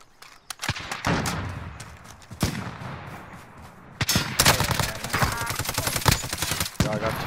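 Rapid bursts of automatic gunfire and sharp single shots from Call of Duty Warzone, loud and close, clustered in dense volleys with brief gaps.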